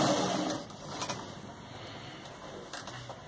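Sewing machine stitching piping onto a kurti, a quiet steady mechanical whirr that runs throughout with light rhythmic clicks.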